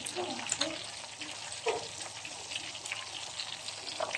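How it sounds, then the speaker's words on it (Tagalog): Beer-battered chicken deep fries in hot oil with a steady, dense crackling sizzle and scattered pops, close and even throughout, with faint voices in the background. "Fry na natin yan. Crispy fry natin."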